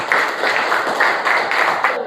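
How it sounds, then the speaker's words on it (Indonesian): Schoolchildren in a classroom clap together, a close burst of quick, dense applause that pulses in a few rhythmic waves before breaking off abruptly at the end. "Tepuk tangan untuk semuanya."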